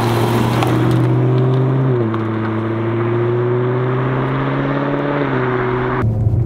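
A BMW M3 engine droning steadily while driving slowly in traffic, a loud close hum with a slight pitch shift as it changes load, no talk.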